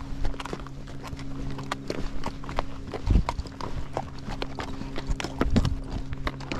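Steady clip-clop of a Tennessee Walking Horse's hooves walking on a hard surface, a brisk even rhythm, with a couple of heavier thuds and a low hum in the background.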